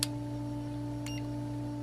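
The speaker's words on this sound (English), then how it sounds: "when you let go, it beeps" A single short electronic beep from an OCDAY infrared thermometer as its trigger is released, heard just after a brief click against a steady electrical hum.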